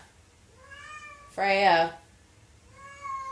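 A single clear, close meow from a cat, sounding between quiet stretches of someone talking.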